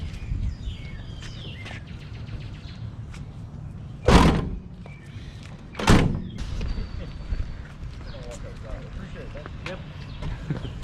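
Van door being shut at a river outing, two sharp slams a couple of seconds apart, loud and close, over outdoor background noise and people talking.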